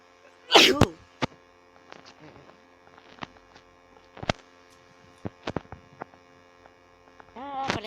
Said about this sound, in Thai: โอ้ยจาม